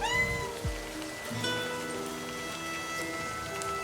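A cat meows briefly near the start in the video game Livber, over steady background rain and soft ambient music tones, with no talk.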